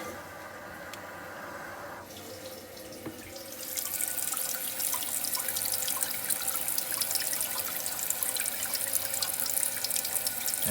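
Water rushes into a toilet after the supply valve is turned on during a float repair, starting as a faint trickle, then swelling into a steady loud hiss of filling water.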